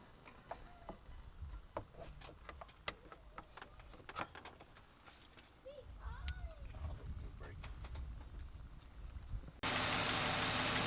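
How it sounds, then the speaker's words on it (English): A 2009 Dodge Charger SXT engine idling after an alternator replacement, a faint steady low hum with scattered light ticks and a voice now and then, ending in a sudden loud burst of broadband noise. "Car running great. 2009 Dodge Charger."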